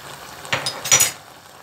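Utensil scraping and clinking through a chicken and mushroom sauté with peppers and chili flakes in a pan, two short stirring strokes over a soft background sizzle, close and fairly quiet.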